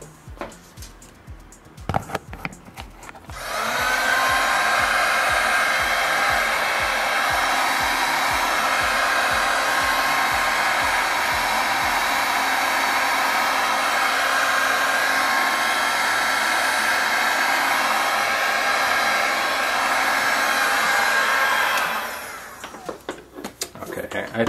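A heat gun blows steadily on acrylic flip-cup pour paint, a loud continuous whooshing hum lasting about twenty seconds close to the mic, with some handling clatter before it starts and after it cuts off.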